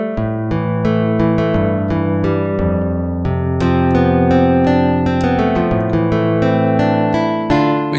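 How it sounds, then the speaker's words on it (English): A clean electric guitar runs through a multi-head tape delay, plucking bright, ringing notes in a steady melodic line with echoing repeats layered beneath, loud and close with no voices. "I have got clean electric guitar sound."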